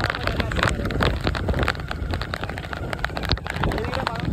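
Heavy rain pours steadily on surfaces around a wedding visit, a dense loud patter lasting throughout, with people talking faintly beneath it.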